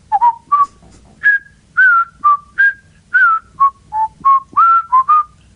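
A person whistles a melodic tune of about fifteen short clear notes in quick succession, close and loud with no other sound around it.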